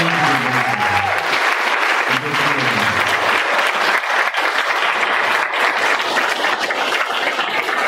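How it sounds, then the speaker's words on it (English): An audience at an Attorney General candidates' debate breaks into steady, dense applause that holds at full strength for several seconds, with a few voices briefly audible at the start. "Maybe a round of applause for the candidates all"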